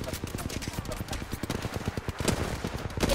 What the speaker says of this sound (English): Wait, I'm shooting at John.